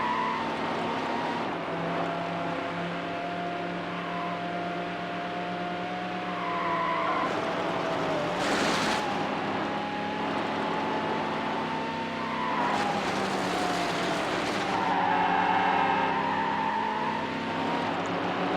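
BMW race cars roar through a lap in Need for Speed Hot Pursuit 2, engines droning steadily with rising and falling pitch as gears shift, a sharp burst like a skid or impact midway, continuous and fairly loud throughout.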